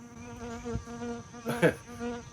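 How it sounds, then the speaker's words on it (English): A bee hovers close to the camera during a MINI Cooper wheel speed sensor job on a rainy day, its steady buzzing hum wavering in pitch and swelling loudest as it passes nearest. "there's a bee flying around the camera"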